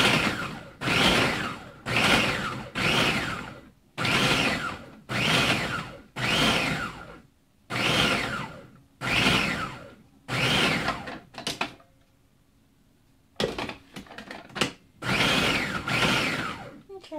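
A food processor pulses frozen meat for spring rolls, a series of about a dozen loud whirring bursts of roughly a second each with short pauses, then brief choppy clatter and a final couple of pulses.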